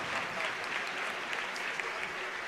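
An esports crowd at ESWC Paris claps for the team Rise Nation at the close of a Call of Duty tournament, a steady, dense wash of applause from a large audience, moderately distant and without a break.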